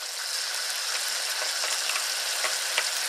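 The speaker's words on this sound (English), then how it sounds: "Gonna pop these down the fryer, baby. Fry later here, watch them sizzle." Crab wontons sizzle and crackle steadily in a deep fryer, a dense bright hiss with scattered small pops, close by and without talk.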